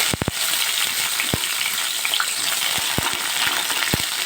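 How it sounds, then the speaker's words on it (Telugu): Onion, tomato and green chilli sautéing in a little oil in a pan, giving a constant close sizzle with several sharp knocks of a spatula against the pan and no voices. "అదే ప్యాన్లో కొద్దిగా ఆయిల్ వేసేసి అన్నీ మగ్గించుకోవాలి"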